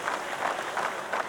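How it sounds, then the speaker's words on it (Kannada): A crowd claps at a police sports meet, giving a brief burst of dense, steady applause at moderate volume. "ತಮ್ಮೆಲ್ಲರಿಗಿಂತ ಜೋರಾದ ಚಪ್ಪಾಳೆ ಇರಲಿ."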